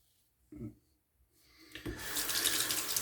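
Tap water rinses a Gillette Travel Ball End Tech safety razor, starting with a few soft splashes and swelling into a steady close hiss of running water at a sink.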